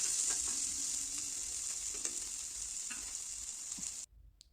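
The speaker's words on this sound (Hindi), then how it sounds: "यहाँ पर मैं अच्छे से मिक्स करके छेड़ा देते हुए अपने प्याज को पका रही हूँ।" Onions frying toward golden brown, a steady bright sizzle with occasional soft stirring scrapes, close and unbroken until it cuts off abruptly near the end.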